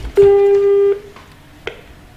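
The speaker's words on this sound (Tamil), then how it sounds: "அழைப்பு துண்டிக்கப்பட்டு விட்டது." A telephone tone sounds when a call to a radio phone-in show is cut off: one loud, steady electronic beep lasting most of a second, followed by quiet line noise and a faint click.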